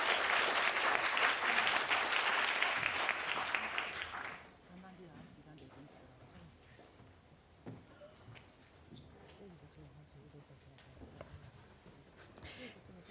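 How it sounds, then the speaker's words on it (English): A symposium audience on Buddhist counselling claps loudly to welcome a professor to the stage for about four seconds, then the applause drops away to a quiet room with faint shuffles and a voice beginning. "let's have a round of applause to warmly welcome Professor LOBB to the stage"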